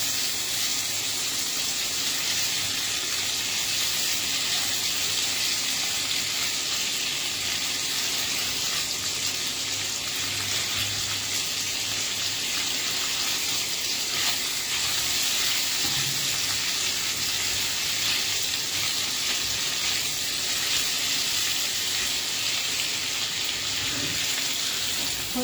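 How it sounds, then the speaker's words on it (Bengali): Paneer fries in a pan on low heat with a steady, even hiss and sizzle, continuous and unchanging throughout, close by with no talking. "আঁচটা একদম কম দিতে হবে, জাস্ট একটু আমি ফ্রাই করে তুলে নেবো।"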